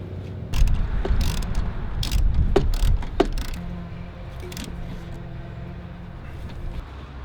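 Ratchet work tightening bolts during a catch can install on an Isuzu D-Max, with a few sharp clicks and metallic knocks at first, then a quieter low mechanical hum.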